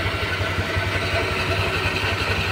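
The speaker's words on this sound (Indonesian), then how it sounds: "ini ketika motornya menyala, ini kan belakang juga tidak berputar ya" A 2023 Honda Vario 125 scooter, about one year old, idles steadily up close with its rear wheel not turning, giving an even, low, pulsing engine throb with no talking.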